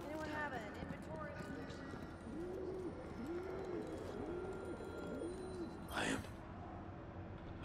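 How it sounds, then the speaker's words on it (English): Pigeons coo in the Destiny 2 tower, a series of four soft rolling coos in steady rhythm amid ambient background noise, with a brief louder rustle near the end. "I am glad to see birds still nest in these old walls."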